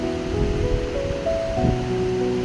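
Dry red chillies sizzle and spit in hot oil left from frying fish, a steady, close, dense hiss with crackling bursts throughout.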